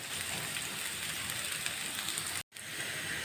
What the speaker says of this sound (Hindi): तो ये देखिए कि मैं प्याज को फ्राई कर रही हूँ।